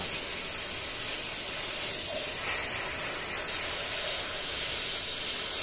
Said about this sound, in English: Use the bottom part of the cone of the spray that comes out to hit these edges